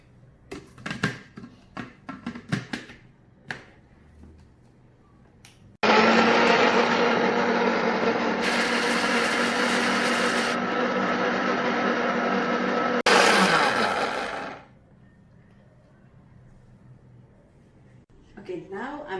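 A blender whirs loudly and steadily for about nine seconds, blending chilies with stock, then winds down, with brief clattering and handling noises before and after.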